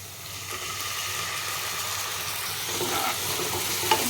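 Masala paste of ground spices cooked with fried onions sizzles steadily in hot oil for chana masala, with a spoon scraping and stirring through it close by; no voices.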